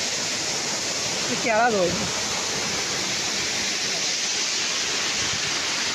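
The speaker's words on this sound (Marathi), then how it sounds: "इतक्या उंचावरनं पाणी पडत आहे." Savatkada waterfall pouring from a great height gives a steady, close, broadband roar of falling water that fills the whole stretch, with a brief voice breaking through near the start.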